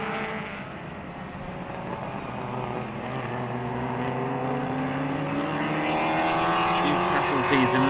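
Classic race cars, including Datsuns battling for position, at the Jarama circuit, engines rising in pitch as they approach and grow steadily louder, with a commentator speaking over the roar.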